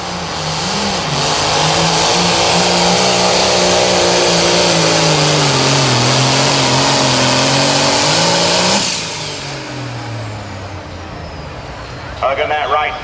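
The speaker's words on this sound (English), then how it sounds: "David Jones out of Stewartsville, Missouri, the blowing buck, John Deere." A John Deere 8500 limited pro stock pulling tractor roars loud and steady at a Missouri tractor pull, its pitch sagging and rising for about nine seconds before cutting to a quieter engine drone, with an announcer talking over it.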